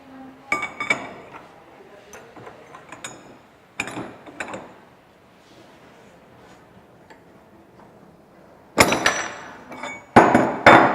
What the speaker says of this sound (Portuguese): E ela também consegue cortar barras de ferro de até 3 milímetros de grossura.